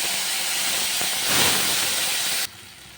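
Chopped ginger and green chilli hit hot oil in a spice tempering already holding cumin, bay leaf and dried red chilli, giving a steady, close sizzling hiss that swells briefly midway and then drops off sharply near the end.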